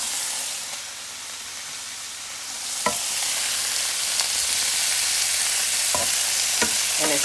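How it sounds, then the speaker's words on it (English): Meat browning in a pan for stew sizzles loudly and continuously, with a few sharp crackles and stirring scrapes breaking through the steady hiss. "this is done browning off"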